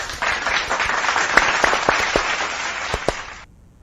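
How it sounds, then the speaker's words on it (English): A small audience claps for a few seconds after a livestreamed show, a brief burst of scattered applause that tapers off and cuts to silence. "Let's give them a hand of applause."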